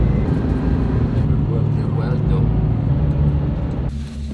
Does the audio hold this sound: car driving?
yes